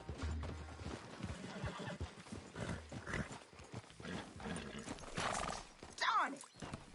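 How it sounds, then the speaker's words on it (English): A horse in Red Dead Redemption 2 acting up, hooves clip-clopping beneath a player's talk before a sharp, high whinny rings out near the end. "Damn horse acting up on me."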